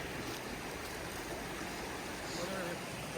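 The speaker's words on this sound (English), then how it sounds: "And then the river right here." A river runs right beside a forest cabin near an outdoor fire pit, its steady broadband rush of flowing water filling the scene evenly and continuously from start to finish.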